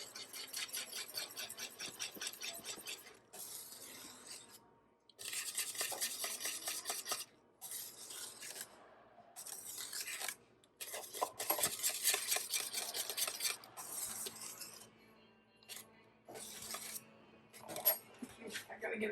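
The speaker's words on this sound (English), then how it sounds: "I'm going to whisk it in to incorporate it a little faster." A whisk stirs lemon pie filling in a bowl in quiet bursts of fast clinking and scraping, separated by brief pauses.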